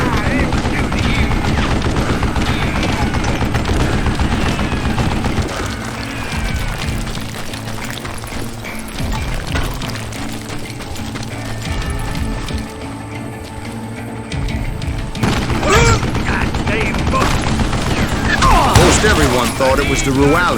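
Gunfire in Call of Juarez: Gunslinger, dense rapid bursts and crackling shots that keep going for about twenty seconds over an intense game soundscape, with someone talking at moments.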